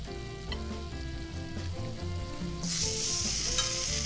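Bread dunked in egg fries for French toast in a flat pan, a close, continuous sizzle that swells into a brighter hiss partway through, heard alone without talk.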